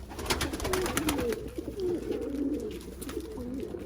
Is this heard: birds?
yes